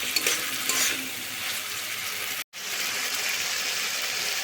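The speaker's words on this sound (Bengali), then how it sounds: "খাসির চর্বিটা আমি এইভাবে মশলার সঙ্গে কষে নেব।" Goat fat frying with spices in a pan gives a steady, close hiss and crackle that is briefly cut off midway and then resumes evenly.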